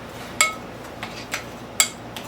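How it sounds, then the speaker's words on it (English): A small spoon clinks against a bowl while stirring sourdough chocolate chip cookie mixture, giving five or so sharp, close, irregular taps over quiet background. "I can mix it with this little spoon, and I may just trying to stir it in"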